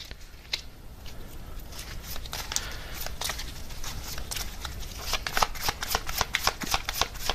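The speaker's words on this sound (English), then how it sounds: "I want to get the second row of cards here." Tarot cards are shuffled and dealt out close by, a dense flurry of crisp riffling and snapping that grows busier and louder toward the end.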